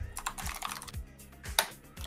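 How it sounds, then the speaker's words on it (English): Rapid typing on a computer keyboard, close and crisp, with irregular clusters of keystrokes and a sharper clack near the end, alone without talk. "Tim, why can I hear you typing?"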